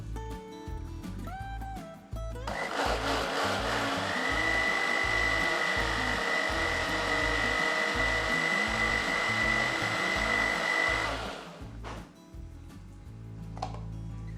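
A mixer grinder runs on soaked batter for bun dosa, a loud steady whine that starts abruptly, holds for about nine seconds and cuts off, with kitchen clatter before and after.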